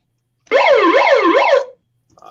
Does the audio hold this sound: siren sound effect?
yes